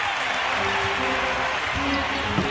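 Basketball arena crowd roaring steadily at an NBA game, a dense wash of cheering and applause that stays loud and constant, with faint voices mixed in.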